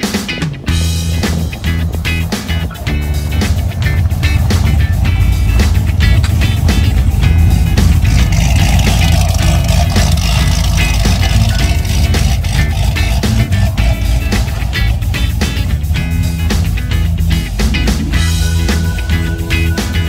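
A Gotham Cruiser C6 car drives past in a flyby, with a loud, steady engine rumble sustained throughout and no clear rise or fall.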